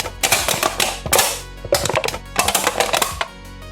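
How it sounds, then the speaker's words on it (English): AI-generated effect of someone crushing a can, heard as a series of crunchy metallic crackles and clicks in irregular bursts, loud and close, with no voices. "if I want to have just a shot of someone crushing a can like this."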